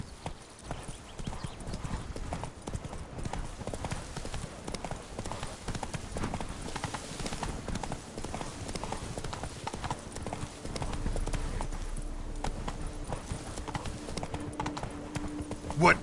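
Roach the horse trotting in a PS4 game, hooves clopping in a continuous rapid rhythm under game ambience and voices, with occasional louder hits near the end.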